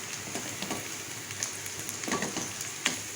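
Onions sizzling steadily in a pan while a spoon stirs them continuously, with scattered scraping clicks over a constant hiss, close and fairly quiet.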